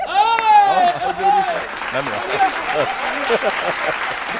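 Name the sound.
audience applause for a poem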